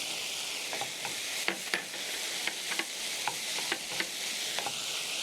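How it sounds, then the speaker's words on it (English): Spices, zucchini and red capsicum tossed in a frying pan for an eggplant and rice dish, giving a steady soft sizzle broken by repeated light scraping and stirring clicks, close and moderately quiet with no talk. "Toss the spices together with the vegetables. Add in my zucchini at this point, red capsicum,"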